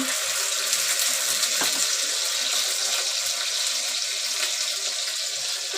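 Water pours steadily into a dhokla batter mixture, a continuous close splashing rush with no pauses from start to finish.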